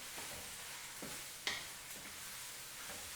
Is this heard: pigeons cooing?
no